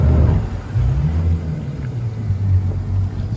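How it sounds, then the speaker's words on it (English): Engines on a Jeanneau Marlin 895 boat work to hold it in position at a buoy, giving a loud, close, low rumble that pulses and shifts in pitch steadily throughout. "the engines are doing all the work to hold it in position"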